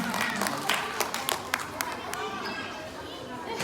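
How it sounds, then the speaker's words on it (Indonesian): A children's audience claps for a young performer at a storytelling event, a burst of quick, uneven claps up close amid chatter and kids' voices, with an adult voice speaking over the noise. "kita kasih tepuk tangan dulu buat Troto"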